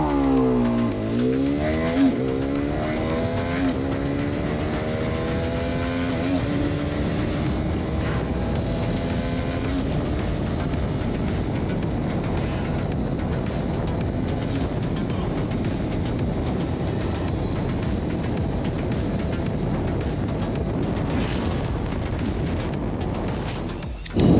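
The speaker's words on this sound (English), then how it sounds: "I managed to do a proper run from 0 to 60, 0 to 100" A 2025 Hero Xpulse 210 motorcycle accelerates hard through its gears, the engine note climbing in pitch, dropping at each shift, then holding a steady high drone with wind roar toward the end.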